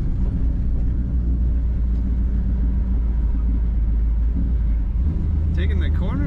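A 1957 Chevrolet 210 Sport Sedan with a fuel-injected engine rounds a corner, giving a steady, deep engine rumble from inside the car that stays even throughout, with a few brief higher tones near the end.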